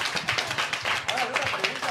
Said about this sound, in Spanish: ¡Un aplauso para la Mascatesta!